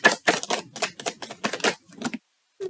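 Rapid clattering riffs of tarot cards being shuffled, with a dense run of crisp flicks, a brief pause, then more shuffling starting again, close up.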